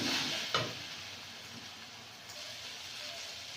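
Egg and eggplant being stirred in a frying pan, a soft steady sizzle with a faint scrape near the start, quiet and continuous.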